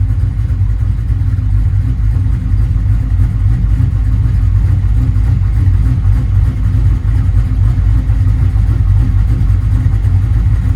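A 383 stroker LT1 V8 idles steadily at about 800 RPM, a loud, close, even low rumble with a slightly lumpy pulse that holds throughout, with no talking.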